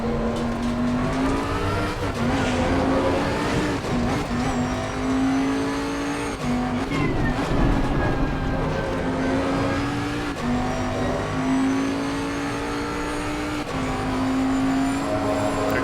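A race car engine in a racing video game drives a lap at Zandvoort, droning loud and steady throughout, with its pitch rising and dipping through repeated gear changes and corners.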